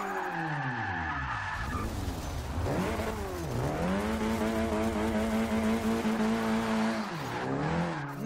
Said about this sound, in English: That turbo takes a second to kick in.